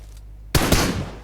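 Gunfire in the mobile battle royale game PUBG Mobile, a single sharp burst of shots after a half-second lull, loud and close, ringing out briefly.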